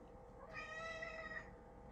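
A single drawn-out cat meow, bright and clearly voiced, rising and falling over about a second against a quiet room background.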